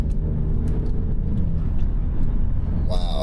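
A 2023 Alfa Romeo Giulia Quadrifoglio on a race track, its engine droning loudly and steadily in the cabin, with a quick gear change and rising pitch near the end.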